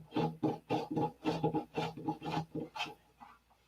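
Sanding plywood layers on a fiberglass engine cowl by hand, a run of about a dozen steady rasping strokes, close and fairly loud, each swipe a separate scrape before a brief quiet finish.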